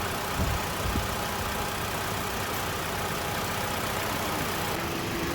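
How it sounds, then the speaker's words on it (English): A Mitsubishi car's air conditioning compressor runs with a steady, even engine-like hum from start to finish, with a faint shift in tone near the end. "See, the compressor turned on now."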